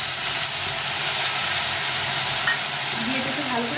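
Steady loud sizzling and hiss as rinse water from a masala bowl hits rohu fish curry frying with ground red chilli paste in a pan, with stirring scrapes throughout and no talk.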